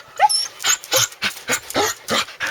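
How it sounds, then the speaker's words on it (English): A rescued mother dog with her puppies, giving a run of about seven short, evenly spaced whimpering yips and barks that sound close and fairly loud, with no talking. "And this is why we call her Mama, because here's her babies."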